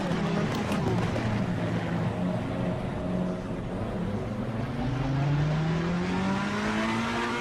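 Race cars from a racing video game roll through a formation lap at Spa in Belgium, a field of 20 cars, giving a steady layered engine drone with rising and falling pitch, continuous and fairly loud throughout.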